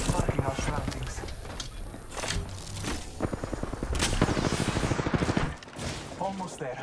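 Video game gunfire in a fast-paced online shooter match, with dense repeated shots and bursts running throughout at close range, mixed with game effects and voice lines.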